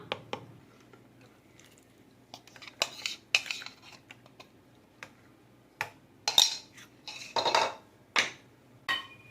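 Sauce for a vegetarian lasagna scraped and spooned from one vessel into a pot, with irregular clinks, scrapes and wet plops of metal utensils against cookware, close and moderately loud with quiet gaps between.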